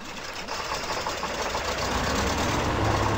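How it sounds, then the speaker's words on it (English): An off-road truck engine in the Spin Tires simulator game starts and settles into a steady, dense mechanical rumble that grows slightly louder, with no talk over it. "Start engine first."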